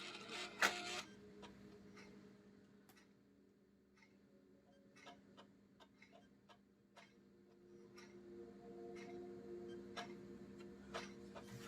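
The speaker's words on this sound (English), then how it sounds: "Again, doesn't sound like it's spinning. Just hear the laser." PS5 disc drive with a fault, its laser mechanism working while the disc does not spin: faint, close ticking and clicking in an irregular pattern over a low steady hum.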